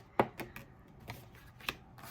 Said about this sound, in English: having to shuffle rather dramatically.